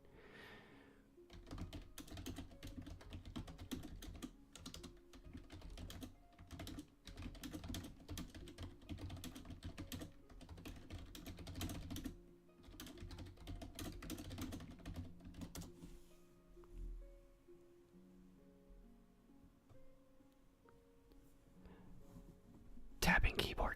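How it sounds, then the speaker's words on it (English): A computer keyboard is tapped in a quiet room, irregular bursts of close, crisp keystrokes with short pauses, mixed with soft whispering. "Tapping keyboard sounds is always a really fun one."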